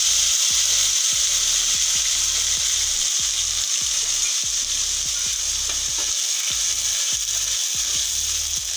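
Onions added to hot oil with cinnamon and bay leaf fry with a loud, steady hiss, while rhythmic low scraping strokes repeat about every half second throughout.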